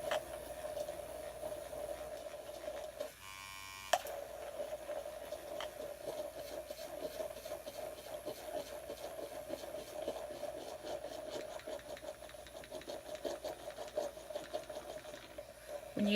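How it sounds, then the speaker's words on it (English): An electric makeup brush cleaner spins steadily on its highest speed, a constant close motor whine with a brief rattling burst partway through and no talking. "This brush cleaner does have 3 speeds, so it's like low, medium, and high. Now it's on high."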